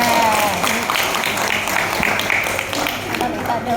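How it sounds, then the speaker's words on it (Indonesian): An audience at an outdoor speech breaks into applause, a moderately loud wash of clapping that holds steady for several seconds and fades slightly toward the end. "Tepuk tangan dong."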